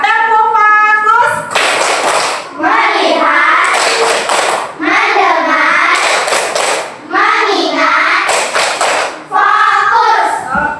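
A class of children sings a chanted rhythm and joins in repeated bursts of clapping, loud and close, with the voices and claps trading off in a regular pattern.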